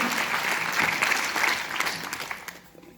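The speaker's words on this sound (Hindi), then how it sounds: "सो एक बार प्रोडक्ट के लिए तालियां हो जाए यार।" An audience at a Modicare business presentation breaks into applause, a dense and steady patter of many hands that tapers off toward the end.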